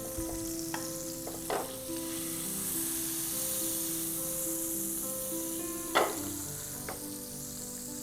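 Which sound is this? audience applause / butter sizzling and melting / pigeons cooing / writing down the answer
butter sizzling and melting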